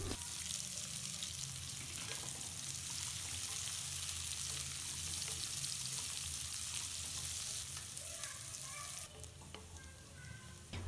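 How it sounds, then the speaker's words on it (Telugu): Sliced onions and cumin seeds fry in hot oil with a dense, continuous sizzle, stirred now and then; near the end the hiss quiets slightly and a few light scrapes come through. "చూడండి, ఇలా బాగా ఫ్రై చేయాలి"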